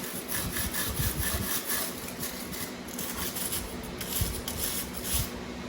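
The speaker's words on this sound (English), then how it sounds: "what I'm going to try using is a wire brush. Just to get that silicone gasket maker off." Wire brush scrubbing silicone gasket maker off a Briggs engine crankcase during a rebuild, a rapid rhythmic rasping scrape in close, steady back-and-forth strokes without talk.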